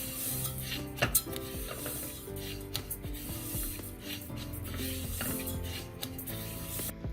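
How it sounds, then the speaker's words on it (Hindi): Dry wheat daliya (cracked wheat porridge) being roasted in a pot, with soft scraping, rubbing stirs and light sizzling crackle running continuously, a couple of sharper clinks near the start. "मैंने एक पतीली में इसको डाल के इसको मैं भून लूंगी"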